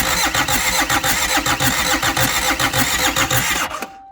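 A Kia diesel engine cranks with a rapid rhythmic starter churn for several seconds, close and loud, then catches and stops abruptly, leaving a brief faint tone.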